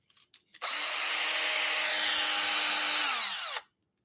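A grinder spins up after a few handling clicks and runs loud and steady with a high whine for about three seconds, then winds down and stops.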